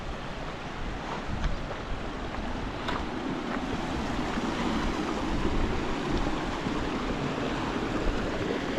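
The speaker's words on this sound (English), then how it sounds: "We've got the waterfall up there." A waterfall by Lingcove Bridge in the Eskdale valley pours in a continuous broadband rush of falling water, steady and fairly close, with wind buffeting the microphone and no talking.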